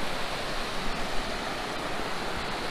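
Creek water flowing through the bush, a steady, broad rush at moderate volume with no other sounds standing out.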